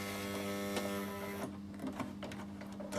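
A Bernette Rome 3 sewing machine runs a triple straight stitch with a steady motor hum and faint rhythmic needle action, close and continuous, with no talking.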